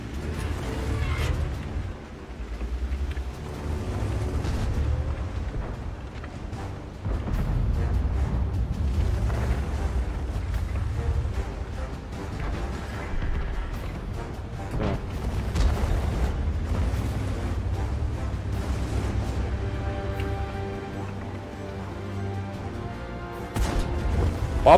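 Tank guns fire and shells hit in World of Tanks, with a Soviet Object 283 medium tank in the battle. Repeated booms and crashes rumble over a constant low background of battle noise, moderately loud throughout.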